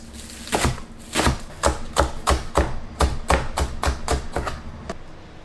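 Spring onions being chopped with a knife on a board, about fourteen firm, evenly spaced cuts in a steady rhythm, close and clear with no talking.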